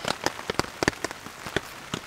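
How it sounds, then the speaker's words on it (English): Rain during a solo camping trip in heavy rain comes through as irregular, close raindrops tapping and pattering on a surface, scattered sharp hits rather than a steady roar, with no talking. "It started pouring again."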